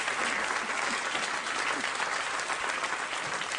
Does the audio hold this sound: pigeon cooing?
no